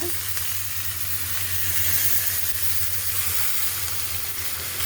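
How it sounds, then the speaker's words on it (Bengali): Chopped onion sizzles in hot oil with a loud, steady frying hiss and a continuous low rumble beneath, close and unbroken for the whole stretch. "পেঁয়াজ দিয়ে দিলাম তেলের মধ্যে পেঁয়াজ কুচি"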